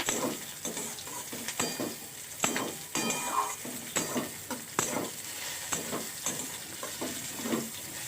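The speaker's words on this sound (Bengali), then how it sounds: "বেগুন দেওয়ার পর বেগুনগুলো ভালো করে ভেজে নেব।" Eggplant pieces fry with onion, tomato and chili in a pan, a soft steady sizzle under regular scraping and clinking stirs of a utensil, close but fairly quiet, no voices.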